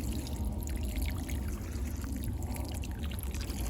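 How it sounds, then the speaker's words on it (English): Water poured from above onto freshly transplanted ranunculus plants struggling in hard-water soil, a steady close splashing trickle running continuously without speech. "I'm gonna add some water, see if they perk up a little bit."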